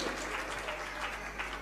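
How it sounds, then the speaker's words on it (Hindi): A short burst of loud, dense audience applause at a Jain religious discourse gathering, honoring Dr. Preeti Balaji Jain; many hands clapping together in a steady roar. "एक बार जोरदार तालियां बजा दीजिए।"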